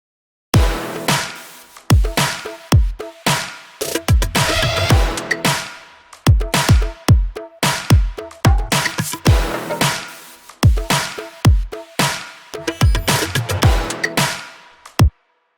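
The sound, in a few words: variated drum pattern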